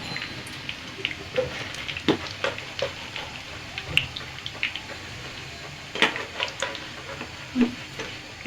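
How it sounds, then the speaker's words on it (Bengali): Cabbage pakoras fry in hot oil, giving a soft bubbling sizzle with scattered crackles and pops and a few sharp clinks of a utensil, fairly close and without talking. "আমি ওপাশটা ঠিক এরকম করে আমি ভেজে নেব"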